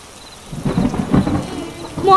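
Cartoon rainstorm with steady rain and rolling thunder swelling in after a quiet start, the rumble building and peaking twice before a final loud surge at the end.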